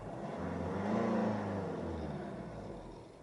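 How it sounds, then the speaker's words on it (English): A Ford Kuga 2.0 TDCi Titanium 163bhp AWD diesel idles steadily close by, a low even rumble that swells slightly then settles, with no talk over it. "Engine's running now, as you can see, flawlessly."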